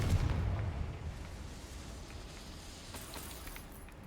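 The Confringo fire spell from Hogwarts Legacy goes off as one muffled blast at the very start, then settles into a faint, fading rumble with no talking.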